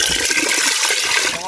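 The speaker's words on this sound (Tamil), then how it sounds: "நான் தண்ணி ஊத்த போறேண்ணா" Water pours steadily into a pot for an outdoor mixed mutton and chicken biryani, a continuous splashing rush heard close up with voices talking over it.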